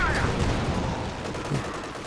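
Tank cannon fire and battle noise from the real-time strategy game Company of Heroes 2, a dense, continuous roar of gunfire and explosions with no clear individual shots standing out.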